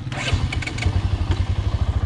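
A motorcycle engine on a mountain road ride from Lahore toward Kashmir turns over and catches again, settling into a close, steady low putter with brief clattery bursts near the start.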